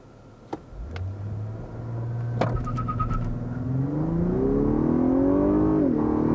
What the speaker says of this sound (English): All right, the traction control is switched off. Let's go ahead and try another launch.